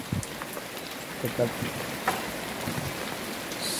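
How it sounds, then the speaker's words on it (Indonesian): Afternoon rain falls in a steady, even hiss with scattered drips and taps on nearby surfaces, and a faint voice is briefly heard. "Nah, sore ini masih hujan ya."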